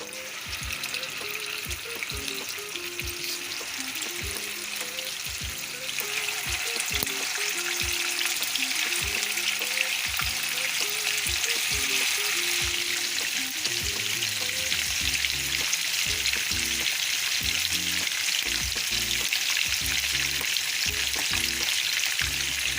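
Kofta balls fry in hot oil with a continuous dense crackling sizzle, close up and unbroken, swelling slightly louder partway through.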